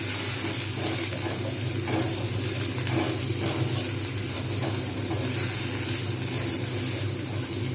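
Spices hit a pan of potato curry with papad and are stirred, giving a loud, continuous hiss of sizzling oil with faint scraping throughout and no pauses.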